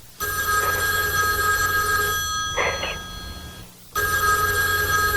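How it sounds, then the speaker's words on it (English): A telephone bell ringing in electronic bursts, one long ring, a pause, then another ring starting, loud and close with a faint hum beneath. "let it ring a couple times"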